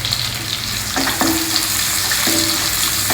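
Sliced onions frying in a pot with crushed ginger and garlic for veg pulao, giving a continuous close, dense sizzle with a few faint scraping touches of stirring.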